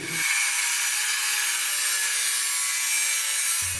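A power tool grinds or cuts through metal parts in a workshop making stove fittings, a continuous harsh high-pitched rasp that starts abruptly, holds steady for several seconds, then stops.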